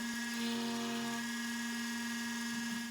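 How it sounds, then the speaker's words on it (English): A CNC milling bit on a Carvera Air engraving a channel name into the outer face of a micro turbocharger compressor housing gives a steady high-pitched whine with a constant tone, close and continuous throughout. "my channel name engraved directly into the outer face with the milling bit"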